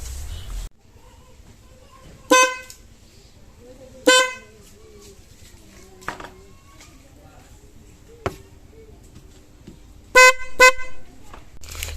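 A motorbike pop horn gives short, loud bursts of staccato honks, two separate volleys and then a rapid double burst near the end, with faint clicks between them and no one talking.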